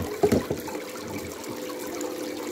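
Water flows steadily through a homemade clean-up sluice, a constant rushing trickle heard up close after a few splashy gurgles at the start, with no talking.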